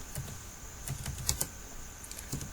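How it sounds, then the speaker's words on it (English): Fingers type on a computer keyboard while an email is composed, giving a close, irregular run of soft plastic clicks and taps with brief pauses and no voices. "Let me type it."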